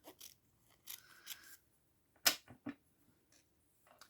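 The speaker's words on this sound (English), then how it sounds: "let's cut this one down again" Scissors snipping paper for a Halloween mini junk journal, a few short crisp cuts in a quiet room with separate snips spaced across the moment.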